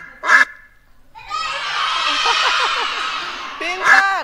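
Loud nasal quacking from a duck, a burst of repeated calls with short single honks before and after, close and clear.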